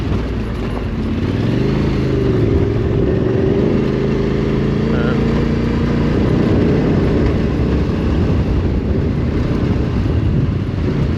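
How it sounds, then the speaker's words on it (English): A big motorcycle rolls slowly along a dusty road in Morocco between Ouarzazate and Zagora, trailing slower riders; a steady, loud engine drone with shifting low harmonics and wind buffeting runs throughout. "Back markers are riding quite slowly, so making it hard work on a big bike."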